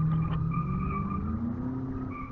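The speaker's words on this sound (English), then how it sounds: "Cars making a lot of noise. I'm not sure whether you can hear them or not. Spinning tires and revving engines." Cars outside spin their tires and rev their engines, a sustained tonal squeal and engine whine heard from a distance, fairly faint and drawn out.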